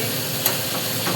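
Onions sizzle and hiss in a hot pan while being stirred, with tomatoes and whole green chillies added, for an old-style chicken dish. The frying is a steady close noise with one brief sharp scrape.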